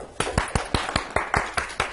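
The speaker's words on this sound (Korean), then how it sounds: "우리 박수 한번 치고 시작할까요?" Audience at a Korean exam-prep lecture clapping in unison: about nine sharp, evenly spaced claps in two seconds, close and clear, with no talking over them.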